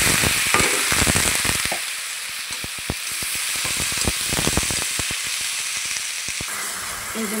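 Papaya pieces fry with turmeric and salt in a pan, a steady close sizzle broken by frequent sharp clicks and scrapes of stirring throughout.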